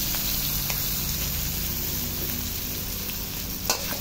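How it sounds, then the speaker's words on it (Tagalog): Shrimp sizzling steadily in a hot pan for pepper butter shrimp, a continuous loud frying hiss with faint scrapes of stirring and no talk. "Pagkalagay nga natin ng pasayan, ay ating haluin ng bango."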